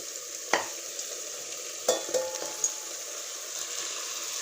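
Mutton being stirred into sautéed masala in a pan for Dindigul Thalappakatti-style mutton biryani: a low sizzle with a few sharp scraping and clattering stirring knocks, close and otherwise quiet.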